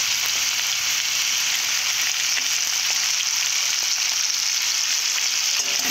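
Potatoes fry in hot oil, making a loud, steady, close sizzle that holds without a break.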